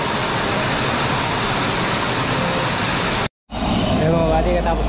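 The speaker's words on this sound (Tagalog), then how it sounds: "katapos na ng malakas na ulan" Loud, steady broadband roar of heavy rain pouring down, briefly cutting out before resuming as a dense wash.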